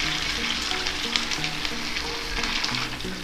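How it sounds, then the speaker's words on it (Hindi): Snacks deep-frying in hot oil over a high flame, a steady close sizzle and bubbling crackle that fills the clip with no voices. "और इसे हाई फ्लेम में तलना है।"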